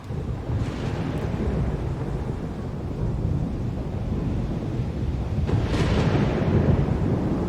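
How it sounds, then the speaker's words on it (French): A violent storm on Mars in the 2017 animated film Starship Troopers: Traitor of Mars, a loud and steady roar of wind and rumbling thunder with heavy low-end noise and a couple of swelling gusts, no voices. "On n'a jamais vu une tempête comme ça."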